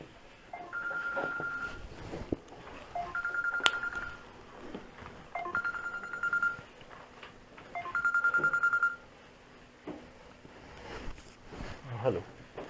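A telephone rings during a class in several repeated electronic bursts, quiet and close, with a person talking around and between the rings.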